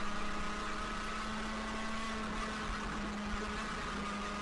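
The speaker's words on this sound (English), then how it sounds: "I love the sound of that engine." A racing car engine's steady, loud drone with a constant low tone fills the whole stretch without a break, close and unchanging.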